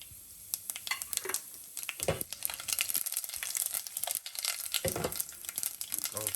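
Mustard seeds and cumin sizzle and crackle in hot oil in a pan, along with chana dal and urad dal, giving a steady close frying hiss with scattered sharp pops and crinkling bursts throughout.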